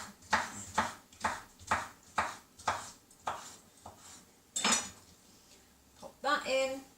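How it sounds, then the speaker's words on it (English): Knife slicing a brined ingredient on a chopping board while making cannelloni in a home kitchen: a steady run of about eight crisp chopping strokes, close and clear, then a brief clatter of utensils near the end. "I'm going to slice that up."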